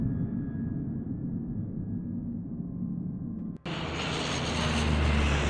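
Airplane engine inside the Secret Files Tunguska adventure game drones steadily and loud, a low continuous roar that suddenly brightens into a fuller, hissier jet-like rush partway through, with no speech.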